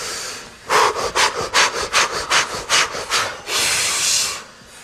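Fire breath, a rapid panting breathing exercise: about a dozen quick, forceful breaths close to the microphone in an even rhythm, then one longer exhale, with no speech.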